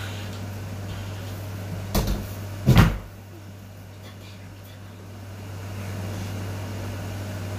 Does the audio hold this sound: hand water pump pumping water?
no